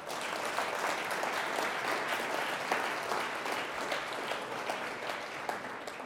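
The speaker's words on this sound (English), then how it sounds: "So I just want to give Gina Patterson a round of applause" An audience at a My Brother's Keeper solution session applauds Gina Patterson with steady, dense clapping that holds at an even level for several seconds.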